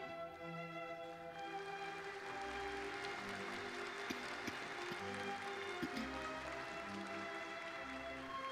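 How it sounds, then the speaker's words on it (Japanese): Audience applause at a Kanagawa University graduate degree ceremony, a sustained even patter of many hands clapping in a large hall, fairly soft and continuous, with faint tonal background music underneath. "拍手をもってお迎えください。"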